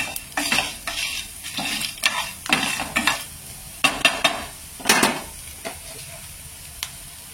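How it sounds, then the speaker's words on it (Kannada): Spices being stirred and fried in a little oil in a pan for temple-style tomato rasam: a steady run of spoon scrapes and clinks against the metal over a light sizzle, close and fairly loud, with no voices. "ಆ ಎಣ್ಣೆ ಹಾಕೊಂಡು ಇದನ್ನು ಸ್ವಲ್ಪ ಚೆನ್ನಾಗಿ ಮಿಕ್ಸ್ ಮಾಡ್ಕೊಳ್ಳಿ, ಫ್ರೈ ಮಾಡ್ಕೊಳ್ಳಿ"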